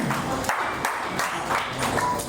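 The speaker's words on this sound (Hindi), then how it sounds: "एक बार जोरदार ताली" Audience at a company celebration program in Ambala, Haryana gives a round of clapping, a few sharp distinct claps over a murmuring room.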